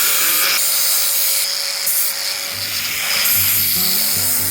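An angle grinder fitted with a sanding disc works metal parts for a DIY open-fire spit roaster, giving a loud, steady high whine with shifting scraping and rubbing tones throughout.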